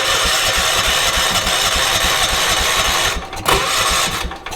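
A vintage 1980s UTV engine running with a rapid, uneven chugging beat, close and loud, then faltering and dipping near the end as it struggles to keep going.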